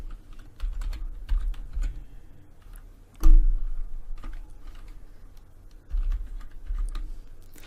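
Keys clack on a computer keyboard while a forex pending order is entered, with scattered clicks, a sharper thump near the middle and a short cluster of keystrokes toward the end, all close and without speech.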